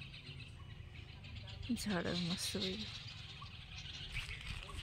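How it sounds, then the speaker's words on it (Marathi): Small birds chirp and tweet outdoors near an old riverside temple, light scattered calls mixed with ambient noise while a person talks over them midway. "पक्ष्यांचा चिवचिवाट आवाज येतो।"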